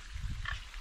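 A pig or wild boar in a corn field gives a short, low grunt, brief and fairly faint against the outdoor background.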